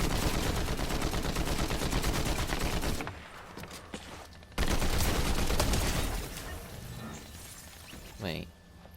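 Rapid gunfire in Fortnite, with dense bursts of shots for about three seconds, a brief pause, then another loud volley. Faint game effects fill the quieter gaps, and a voice speaks briefly near the end.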